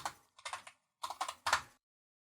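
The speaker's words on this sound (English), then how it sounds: "type ipconfig." Someone types ipconfig on a computer keyboard, a short close run of about six crisp keystrokes in two quick clusters, then silence.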